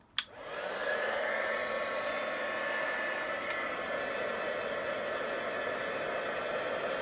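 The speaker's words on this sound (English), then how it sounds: "Okay, so I've now got the heat gun. I'm going to heat this up first" A heat gun starts with a sharp click, then blows hot air at a decoupage candle to melt the wax. The steady, loud, close whooshing roar holds evenly throughout, with no voices.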